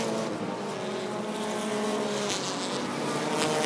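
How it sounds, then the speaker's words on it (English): Bracket race cars roar past at Rockford Speedway, with a loud, continuous engine drone that swells as the cars pass close by and no talk over it. "But here comes the 76 of Lucas Foster, and Matt Petrozelka is right there with them"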